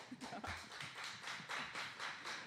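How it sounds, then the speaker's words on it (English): An audience claps at an evening event with influencers, a quiet patter of applause with uneven bursts that rises and falls over a couple of seconds. "Let's give them a round of applause."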